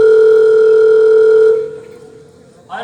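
During a Hindi stage play, a telephone sounds with a loud, steady electronic tone for about a second and a half. It then fades away, and a voice cuts in briefly at the very end.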